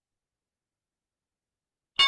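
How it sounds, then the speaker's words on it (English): A single metallic bell clang strikes abruptly after near silence, loud and ringing on with steady tonal overtones, marking a stock market opening bell. "Let's come to today's opening bell."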